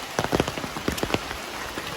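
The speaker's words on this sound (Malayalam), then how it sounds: "ഈ മഴയും ശക്തം" Heavy rain pours steadily outdoors, with dense patter and scattered louder drops striking nearby surfaces under a constant wash of rainfall, and no one speaking.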